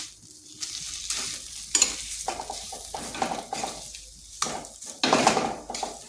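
Potatoes are stirred with tomato sauce in a pan. Brief, close bursts of scraping and clinking on the pan's metal repeat every second or so, over a light sizzle, with no speech.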